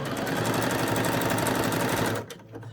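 A sewing machine runs a zigzag stitch over yarn along the edge of a skirt hem, a loud, close, continuous rapid whir and clatter that stops abruptly near the end, leaving a faint hum.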